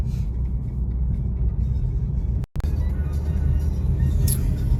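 A 2017 Honda Civic Type R driven in sport mode gives a steady, low engine and road rumble heard from inside the cabin, with one very brief dropout partway through.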